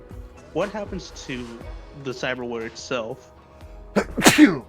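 A sneeze bursts out loud and close near the end, right after a stretch of conversational talk among tabletop role-playing players.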